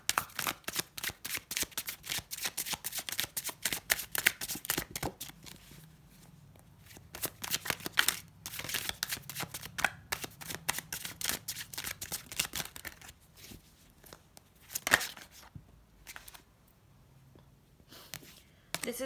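Tarot cards being shuffled for a reading, a long run of rapid, crisp riffling and flapping bursts close to the mic, with brief pauses and a few sharper snaps, no talking.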